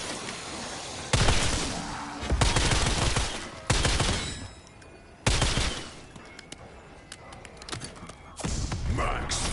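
Video game gunfire comes in five loud, separate bursts of rapid shots, each a second or so long, with quieter gaps of faint game ambience between them.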